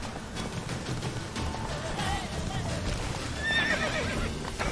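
Roach, the horse in The Witcher 3, gives a clear whinny over clip-clop hoofbeats and a continuous game-ambience wash, with the neigh rising sharply near the end.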